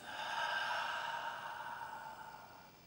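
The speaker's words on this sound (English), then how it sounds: "Exhale, push it out your mouth." A long, forceful exhale pushed out through the mouth during a breathing exercise in a conditioning workout, a steady breathy rush that fades gradually, close and alone.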